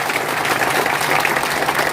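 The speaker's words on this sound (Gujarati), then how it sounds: "1 સેકન્ડ જોરદાર તાળીઓ." A crowd gives loud applause at a gathering. The clapping is dense and continuous, holds steady and close, and lasts about two seconds with no voices over it.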